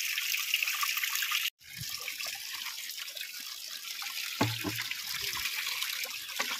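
Water from a borewell pours continuously in a steady, hissing rush, fairly faint and unbroken apart from one brief dropout, with a few low knocks and splashes underneath.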